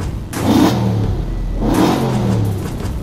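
An Audi RS4 engine heard from inside the cabin revs twice in smooth, rising swells, a deep muffled roar that dips back to idle between pushes.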